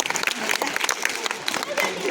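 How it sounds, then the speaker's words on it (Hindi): Loud, dense applause from an audience at a school quiz competition held for Constitution Day, steady clapping filling the whole stretch after a correct answer. "ताली बजाइए इसके लिए जोरदार"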